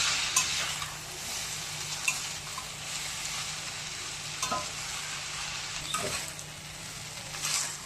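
Cooked noodles for veg hakka noodles are stirred and tossed in a hot pan, a soft steady sizzle broken by occasional scraping clicks of the utensil, close and fairly quiet with no talk.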